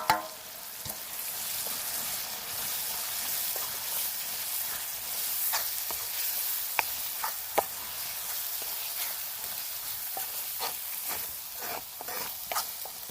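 Tomato, onion and spices fry in a pan with a steady close sizzle, broken by scattered crackles and pops and occasional stirring noises. No one speaks.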